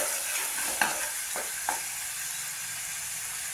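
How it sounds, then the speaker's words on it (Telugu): Chicken pieces frying in oil with bitter gourd (boda kakarakaya) in a curry pan, a steady close hiss of frying with two or three brief spoon clinks near the start. "కొద్దిసేపు ముక్క మంచి ఉడకాలి నూనెలో"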